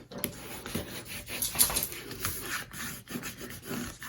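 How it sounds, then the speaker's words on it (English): Close, dry rubbing and scraping of a burnishing tool pressed over glued paper flaps on a spring-themed mini album, in a steady run of short strokes with no talking. "we'll burnish it down and add our glue to these flaps, just like that, and then burnish those on"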